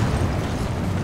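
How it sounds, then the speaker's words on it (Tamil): Tank explosion in Resident Evil 5: a loud, dense low rumble of blast and debris lasting the full second, heavy and close with no talk over it. "டேங்க் வெடிச்சு செதறிடுச்சு."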